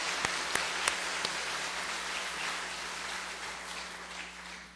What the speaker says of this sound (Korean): 격려의 박수를 한번 해드립시다